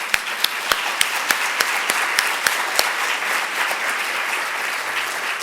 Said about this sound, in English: we give a round of applause to them as well